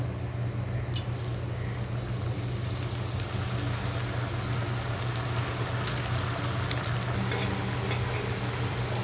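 Oil heats in a pan for frying sev, giving a constant, dense low hiss and faint bubbling that holds at an even level throughout, with no talking.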